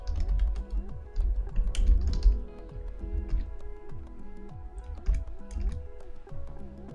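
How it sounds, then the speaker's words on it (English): Typing a description on a computer keyboard while setting up Facebook page streaming: a steady run of close keystrokes, with denser bursts early on and scattered clicks later, no talking. "all you have to do is hit edit and type in what you like."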